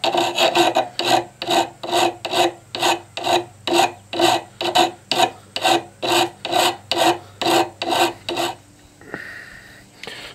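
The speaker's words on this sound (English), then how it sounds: "That's what we're filing in now before we heat treat it, to make sure we've got that bevel just exactly the way we want it." A file cutting a bevel on a rock hammer being made into a bowl adze, with about twenty steady, rhythmic rasping strokes close by, then a brief metallic clink as the filing stops.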